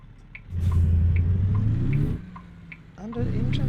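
An International truck's diesel engine in American Truck Simulator, droning steadily and rising in pitch as it accelerates, dropping off between gear changes, then pulling again, loud and continuous.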